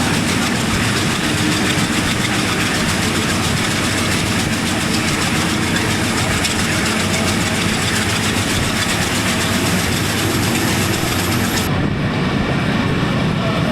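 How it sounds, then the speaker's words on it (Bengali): An Ovijatri commuter train runs at around 90 km/h on the Gopalganj–Dhaka line at night, producing a loud, continuous roar of wheels and carriage rumble with a rapid rhythmic rattle heard from inside the coach. "আমাদের ট্রেনের গতি কিন্তু উঠে গেছে, এখন গতি"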